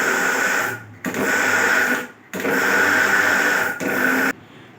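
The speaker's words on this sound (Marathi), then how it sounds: "आता त्याला मिक्सरमधून आपण छान असं साल निघेल तोपर्यंत क्रश करून घेणार आहोत" A mixer grinder crushes soaked wheat in loud, close bursts of whirring, running about a second, then briefly cut off, then running again in longer pulses, with short pauses between.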